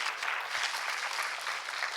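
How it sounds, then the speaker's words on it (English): Audience members at a startup talk clap together in a full, steady round of applause, fairly loud and continuous with no speaking over it. "Round of applause for these guys."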